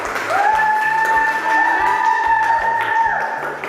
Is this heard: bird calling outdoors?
no